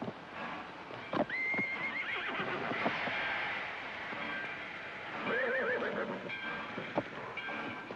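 A horse whinnies loudly several times, spooked by a train that rumbles and clanks nearby, with hooves stamping and scraping, in a 1949 film.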